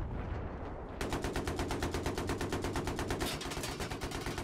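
Rapid automatic gunfire in Battlefield 3 multiplayer, a dense stream of shots after a brief quieter lead-in, loud and continuous over game noise.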